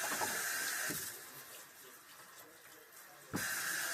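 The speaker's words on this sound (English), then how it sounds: "We can rinse it with water first." Tap water runs into a kitchen sink as something is rinsed, a steady faint splashing hiss that dips quieter midway then surges back louder near the end, with no speech.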